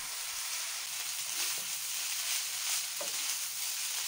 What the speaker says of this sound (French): J'ajoute le riz et la sauce d'assaisonnement. Je remue pendant 4 minutes.